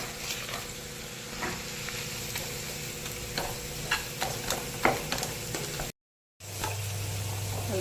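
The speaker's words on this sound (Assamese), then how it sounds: "আলুখিনি অকণমান দি ফ্ৰাই কৰি ল'লোঁ" Boiled potatoes frying with onion and green chillies in a pan of oil, a steady close sizzle with occasional stirring scrapes, a brief dropout near the end, then a louder hiss.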